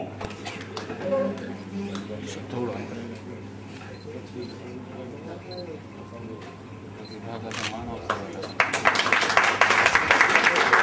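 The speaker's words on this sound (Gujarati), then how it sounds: "જોરદાર તાળી વગાડશું" An audience bursts into applause at a facilitation ceremony, a dense patter of clapping that swells near the end after a man's speech.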